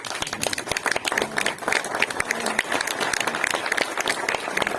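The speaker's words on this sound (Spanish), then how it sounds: "Les quería pedir un aplauso para Jesús." Audience applause at a Spanish astronomy talk for a doctoral student researching galaxy boundaries with deep learning; dense, fairly faint clapping filling the room without pause.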